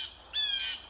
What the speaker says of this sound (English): Blue jays are one of the most well-known birds in the United States.